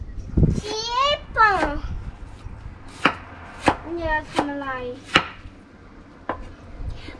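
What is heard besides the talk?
knife chopping vegetables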